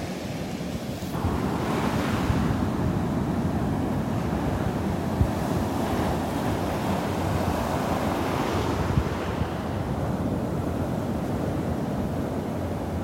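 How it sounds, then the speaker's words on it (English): Steady ocean surf rolls onto the beach in North Naples, Florida, a continuous loud wash of breaking waves mixed with gusting wind noise on the microphone, no voices. "Look at those waves."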